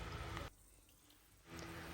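An automatic hand-washing machine at a Cornwall resort sprays water in two short, faint hissing bursts separated by a quiet gap of about a second.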